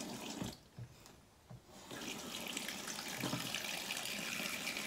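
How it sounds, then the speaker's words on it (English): Silver earrings rinsed under a running tap, with a steady hiss of water flowing into a sink, broken early by a few brief splashes and then continuing evenly and fairly loud. "So the next thing that we're going to do is we're going to wash our earrings."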